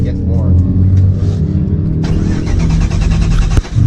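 A twin-engine Mazda MX3, running lean and smoking until warm, idles with a steady low rumble, then a louder broadband roar joins about halfway through. People talk over the engine noise.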